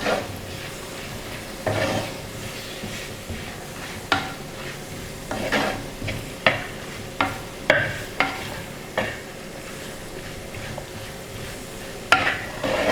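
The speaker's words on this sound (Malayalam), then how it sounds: "നന്നായിട്ട് മിക്സ് ചെയ്ത് കൊടുക്കാം നമ്മുടെ തേങ്ങാക്കൊത്തും ഉള്ളിയും കൂടെ." Coconut pieces and onion are mixed in a pan for Kerala-style beef curry. A spoon scrapes and knocks against the pan in a run of distinct strokes, steady at first and then sparser, over a faint sizzle, close and clear.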